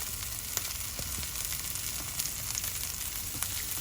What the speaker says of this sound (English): This is frying right here, smelling good.